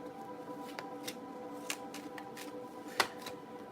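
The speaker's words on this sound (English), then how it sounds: "So I'm shuffling for Alyssa." Tarot cards being shuffled by hand during a live reading, a close, soft run of riffling and slapping card sounds with a few sharper snaps, over a faint steady hum.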